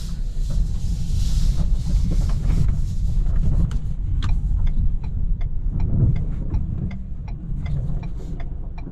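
A 2022 Ford Maverick Lariat pickup driving at night on an icy, bumpy road, heard from inside the cab as a steady low rumble of road and engine noise with scattered small clicks and knocks; no talking.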